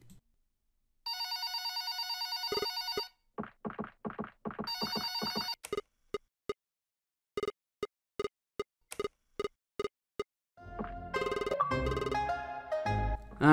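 A telephone rings in the video game Red Bow: several electronic bell rings, then a sequence of short separate tones and a closing musical flourish, loud and without talk.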